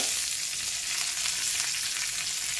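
Chillies frying in oil for a coconut chutney tempering make a loud, steady, close sizzle with a fine crackle, continuous throughout.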